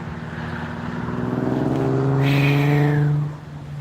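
A Subaru WRX engine revs up with a rising, buzzing tone that swells over a few seconds, then drops off sharply near the end, heard from a short distance.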